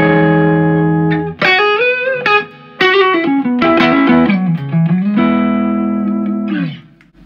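Stratocaster electric guitar with Diliberto pickups played through a Silver Phaser effect and reverb, loud sustained notes and sliding phrases with a swirling, spacious tone, played alone without talk.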